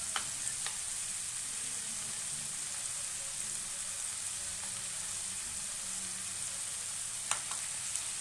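Ginger garlic paste sizzling in a hot pan for a Bombay sagu side dish, a steady, fairly faint frying hiss with a few sharp crackles and spatters, no voices.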